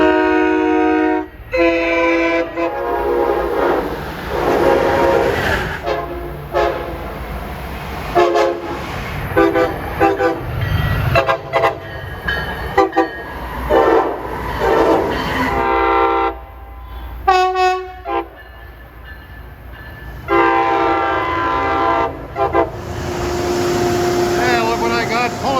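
Heritage locomotives and M3 commuter trains rumble past in Harlem, sounding repeated loud horn blasts in separate bursts over the rolling clatter of passing cars, with a voice talking at times.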